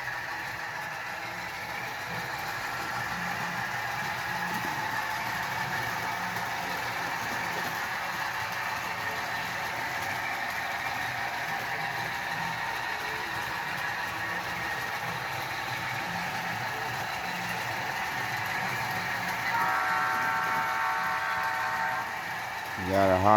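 A small electric motor hums steadily with a faint rolling rattle as an HO scale model train, vintage TYCO, runs around the track, continuous for the whole stretch, rising briefly near the end.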